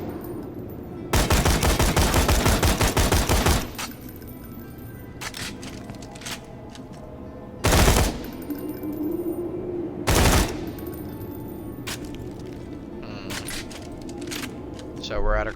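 Bursts of gunfire from a gun in the video game Borderlands 2, a long loud rapid volley followed by two short sharp blasts, set against constant game background sound.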